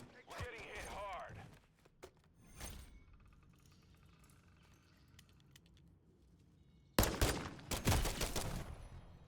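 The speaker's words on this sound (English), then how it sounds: "I emptied the mag" Bursts of Ram-7 rifle fire in a video game, an early rattle of shots, a quiet stretch with faint game sounds, then a loud rapid volley near the end, with voices talking between.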